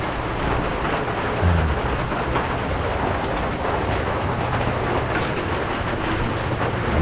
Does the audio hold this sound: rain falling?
yes